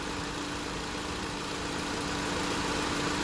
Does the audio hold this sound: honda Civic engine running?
yes